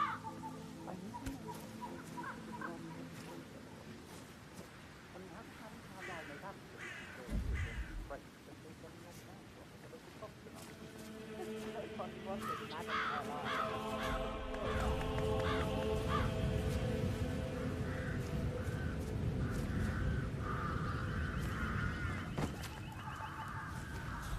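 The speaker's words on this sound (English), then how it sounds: "I'll never get rid of those stupid birds." Crows caw in a video game, harsh repeated calls over an ambient game soundscape that swells louder in the second half, with a low thud midway and a voice talking.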